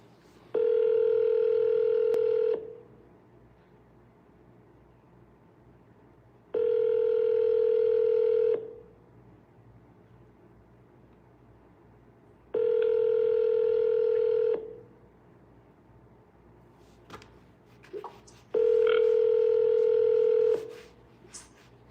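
Four long ringback tones on an outgoing phone call to a for-sale-by-owner home seller, each lasting about two seconds with roughly four-second gaps, steady and clear, with a couple of faint clicks before the last ring.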